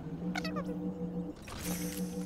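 A cat meows in the video game Planet of Lana: two or three short, rising cries close together, followed by a softer mewing call, over steady low background music.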